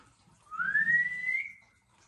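A person whistles one clear note that slides gently upward and holds for about a second, close and alone against quiet surroundings.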